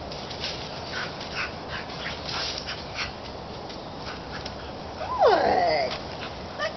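A young puppy named Shiney, out on a leash-training walk, gives a brief high whimpering yelp near the end, over steady outdoor background noise.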